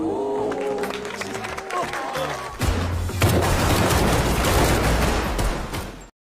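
Gunfire during shooting training, a rapid burst of sharp overlapping shots that starts midway after tonal music and voices, loud and dense before cutting off abruptly.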